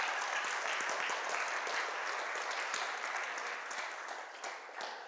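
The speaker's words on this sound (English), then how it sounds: "you all can clap for me now" An audience at a church 40th anniversary celebration applauding, a full, continuous round of clapping with distinct claps audible, fading slightly toward the end.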